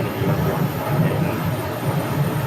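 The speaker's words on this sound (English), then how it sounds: "Embraer 175 taxiing in" Steady whining roar of an Embraer 175 jet taxiing at Phoenix airport, a continuous engine drone with broadband rumble, fairly loud and unbroken, with no voices.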